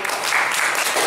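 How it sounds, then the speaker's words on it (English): Audience at a Boy Scout Court of Honor applauding a new Eagle Scout, a dense, steady burst of many hands clapping at close range that fills the whole moment without voices. "Christopher McIntosh, a round of applause."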